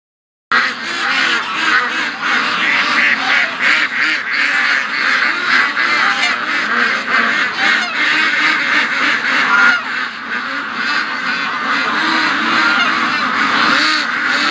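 A large flock of ducks raised for donation to local food banks quacks and honks continuously and loudly, a dense overlapping clamor that runs almost without a break from start to finish.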